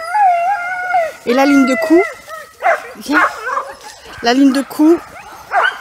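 Sled dogs howl and bark in wavering, drawn-out calls while a team of ten is hitched to harness lines at a morning training session, close and loud, mixed with a person talking in French.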